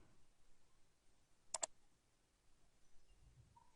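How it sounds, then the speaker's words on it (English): Two quick mouse clicks in close succession on the Save Image button, crisp and near, in an otherwise quiet room. "Click the Save Image button."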